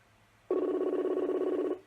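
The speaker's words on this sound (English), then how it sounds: "It's ringing." A single telephone ring tone sounds for over a second, a steady buzzing trill, clear and alone against quiet background.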